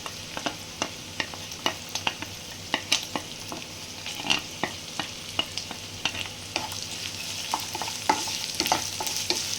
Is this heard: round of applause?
no